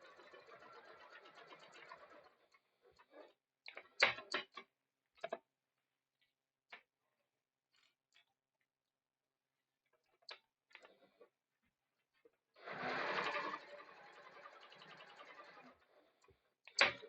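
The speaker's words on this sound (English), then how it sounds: "you're just going to sew 1/4 of an inch each side and reverse your stitch" A sewing machine stitches seams on a fabric bag in two short whirring runs, separated by quiet stretches of sharp clicks and taps from handling; no one speaks.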